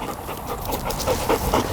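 A Labrador retriever pants in quick, breathy bursts at close range, steady and fairly soft against light outdoor background noise during duck hunting training.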